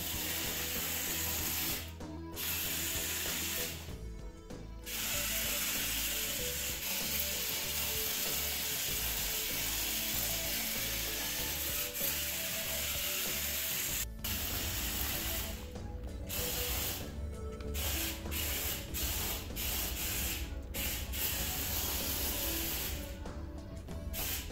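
The small motors of a Smart Machines remote-controlled tank whir loudly and continuously through geared tracks, with ratcheting mechanical clatter and brief pauses as the tank stops and restarts.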